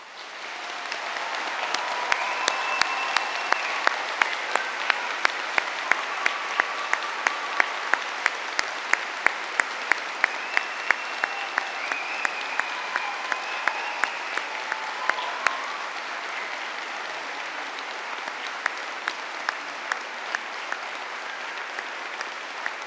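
A large audience at a London university degree ceremony applauds the graduates, with sustained, dense clapping in a big hall and a few louder claps standing out nearby, steady for over twenty seconds.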